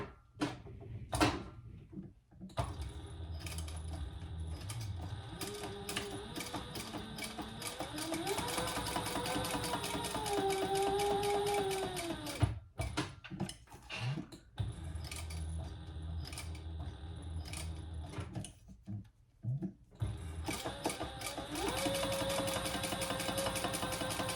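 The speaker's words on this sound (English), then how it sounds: "And then we'll sew down each side and then cut it in half." A sewing machine stitches down the sides of a crossbody bag in long steady whirring runs, broken by short pauses and handling clatter, with a voice speaking in between.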